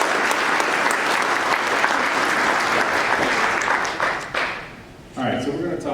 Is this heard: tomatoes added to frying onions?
no